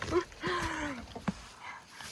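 Dogs outdoors on a cold winter day give a short whine and a drawn-out whimpering yelp, with a sharp bark-like burst afterward, fairly close with light rustling around.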